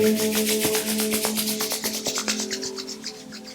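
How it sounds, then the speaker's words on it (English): Two palms rubbing briskly together at close range, a steady dry swishing friction that repeats in quick strokes and gradually fades over a few seconds, with no talking. "Rub your palm together."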